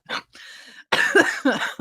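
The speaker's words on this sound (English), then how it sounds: "You got the cough." A short cough, then a longer breathy burst and a run of harsh, throaty coughing sounds close by, fairly loud, with no other voices.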